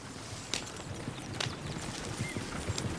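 Horse hooves clip-clop at a walking pace in Red Dead Redemption 2 as a rider moves out through the trees toward town. The hoofbeats are soft and steady, with a few sharper strikes, and no one speaks.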